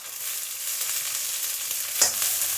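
Onion and green chilli fry in a pan for brinjal gothsu, a continuous soft hiss of sizzling oil with a single sharper stir or spatter near the end, no voices.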